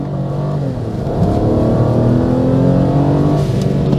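A Toyota Blade's V6 car engine accelerates with a deep, rising drone that builds and holds loud and close, no voices present.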